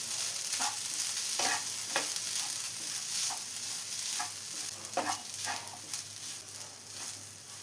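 Grated coconut is stirred in a pan while making banana bonda, giving a steady run of scraping strokes at an even rhythm over a soft background hiss, with no talking.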